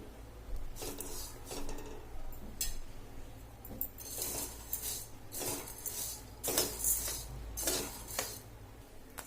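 Dry sorghum and urad grains rattle and scrape in a pan as a utensil stirs them while dry roasting, in repeated bursts of metallic clinking and rustling.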